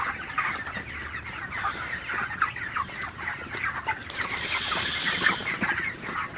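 Broiler chickens in a poultry shed cluck and squawk during oppressive humid heat, a dense overlapping flock chorus, close and continuous, with a louder burst of calls near the end.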